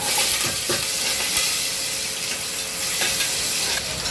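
Onions sizzle and hiss in hot oil for a goat curry, a loud, steady frying sound close up with a few soft stirring scrapes.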